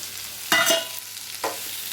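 Bitter gourd pieces frying with sautéed onion and garlic in a pan over a medium flame give a steady close sizzle, broken by two louder scraping stirs.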